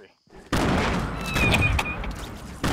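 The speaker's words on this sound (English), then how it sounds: "Throwing grenades in here." Grenades go off in Fortnite as a loud, dense burst of blasts and crackle. It starts abruptly and keeps rumbling for about two seconds, with a thin high ring over the top.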